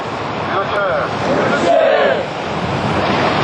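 Sea surf rolling in at night during a marines' hell-week training session, a loud, continuous wash of waves mixed with wind buffeting the microphone and faint voices in the background.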